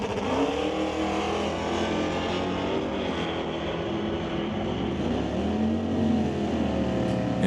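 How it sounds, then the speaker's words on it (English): Dodge Dart and Chevelle drag racing, a continuous loud engine roar with shifting pitch as the cars pull down the strip, heard from a distance through a dense, noisy mix with no talk. "Dodge Dart going up against Chevelle."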